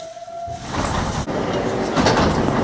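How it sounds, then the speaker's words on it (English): A Bronx-bound New York City 4 express subway train rumbles along steadily with broadband rail noise and wheel clatter, loud and close, as if heard from inside the car. "This is a Bronx-bound 4 express train."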